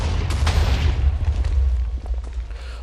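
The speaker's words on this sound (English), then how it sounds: "On hearing the distant explosion, Sam scrambled to his feet" A dynamite explosion in a Minecraft Dream SMP scene destroying a hotel, a deep, heavy low boom rolling on with rumbling debris, fairly loud and sustained, with no speech.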